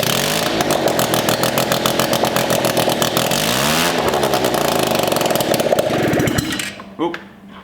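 A rotary engine swapped into an ATV fires up and runs with a harsh, buzzing, revving snarl that rises and falls before dropping away at the end, with a voice talking over it.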